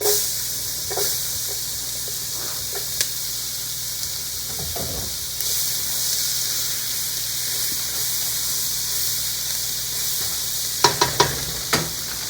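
Onion frying in a hot pan, a constant close sizzle and hiss with occasional stirring scrapes and a cluster of utensil taps near the end, no talk.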